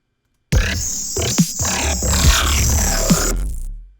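A loud, gritty Skrillex-style synth bass made with Serum tube distortion drones continuously with harsh buzzing overtones and a couple of sharp swelling accents, then cuts off abruptly.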